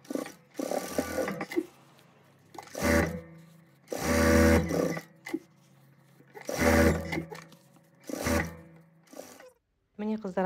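A domestic sewing machine stitches around all four sides of a fabric pencil case in several loud bursts separated by pauses, with someone talking between the runs.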